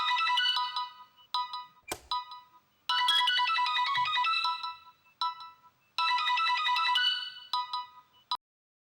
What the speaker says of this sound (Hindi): रात में किसका फोन?